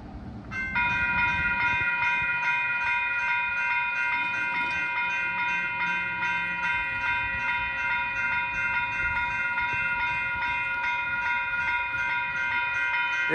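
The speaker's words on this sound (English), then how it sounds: "We got a train coming." A SacRT train rolls past close by at a railroad crossing, its steady rumble under a long, unbroken horn blast that holds for the whole passage.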